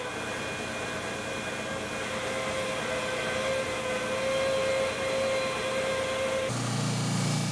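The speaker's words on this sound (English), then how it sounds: "so that I can cut that out on the bandsaw" A bandsaw cuts a wooden ring for a trophy, giving a continuous motor hum and a thin steady whine as the blade works through the wood, with the tone shifting near the end.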